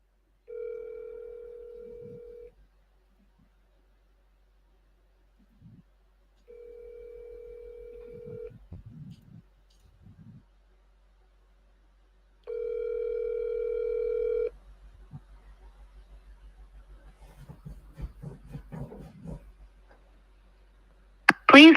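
Phone call ringing out: three long electronic ringback tones separated by silent gaps, each followed by faint clicks and rustling, then a muffled answering-machine voice near the end.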